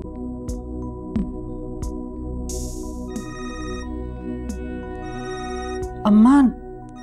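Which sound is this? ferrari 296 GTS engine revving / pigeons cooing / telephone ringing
telephone ringing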